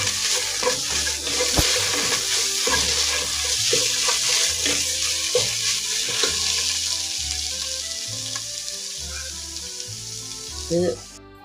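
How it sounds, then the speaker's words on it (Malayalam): Pepper, turmeric and strained tomatoes sauté in a pan, with a loud continuous sizzle and the scrape and clatter of a spoon stirring throughout, fading slightly near the end. "ഇതൊക്കെ കൂടെ നമുക്ക് നന്നായിട്ടൊന്ന് വഴറ്റിയെടുക്കാം"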